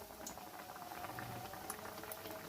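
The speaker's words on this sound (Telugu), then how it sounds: "చూడండి, నూనె మరిగింది. ఇప్పుడు జాగ్రత్తగా ఇది ఇందులో వేసుకోవాలి." Bread pakoda frying in boiling oil, a soft, steady bubbling and fine crackle that stays even and fairly faint throughout, with no voices.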